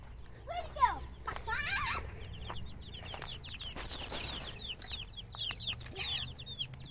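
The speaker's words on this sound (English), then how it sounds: "let's go check on the chickens." Chickens cluck at close range, mixed with high chirps and peeps that come in short bursts over low background noise.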